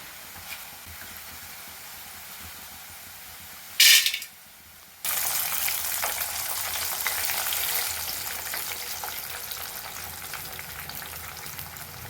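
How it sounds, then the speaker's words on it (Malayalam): Quiet hum, then a brief loud clatter, followed by steady sizzling of jackfruit frying in hot coconut oil that continues to the end. "വെളിച്ചെണ്ണയിൽ വറുക്കുന്ന ചക്ക."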